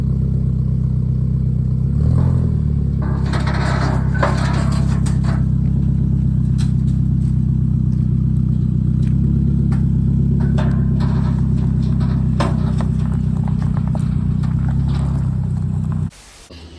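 A supercharged car engine, restarted after sitting unused for three years, runs loud and close with a steady deep rumble and rising revs, rattles and clatter over the top, then cuts off abruptly near the end.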